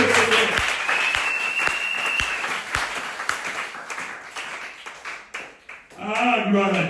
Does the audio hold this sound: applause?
yes